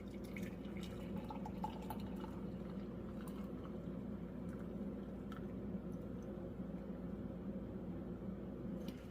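Tea filters through a steeper into a mushroom-shaped mug, heard as quiet, scattered drips and soft liquid trickles over a low, even background hum.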